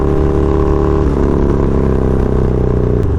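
A Harley-Davidson Low Rider S engine pulling hard in third gear at highway speed, a loud steady rumbling drone with wind roar, no speech.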